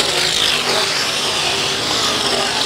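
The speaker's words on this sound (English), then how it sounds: "Ryan Fisk's number 60 running a completely full motor there as he made a lot of noise coming down into turn number one" IMCA modified race car, the number 60 with a full motor, roars at Ionia Raceway Park heading into turn one, a loud continuous engine drone with a rough, sputtering edge and no voices.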